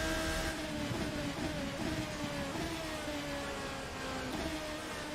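A P1 prototype race car at Le Mans in a racing video game drones at high speed with a steady engine note. The pitch dips slightly at each gear change. No voices are heard.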